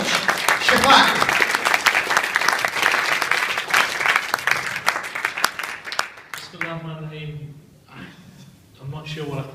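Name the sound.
audience applause for Shafaq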